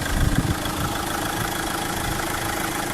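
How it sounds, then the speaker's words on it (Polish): A Chevrolet Captiva engine idles steadily at low revs during a power steering fluid change, a continuous close rumble with an even, unchanging tone and no voices. "zostawmy sobie silnik, niech pochodzi na wolnych obrotach"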